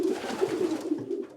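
Released pigeons coo softly and repeatedly, a low rolling burble with small gaps between calls, close by and fading slightly at the end.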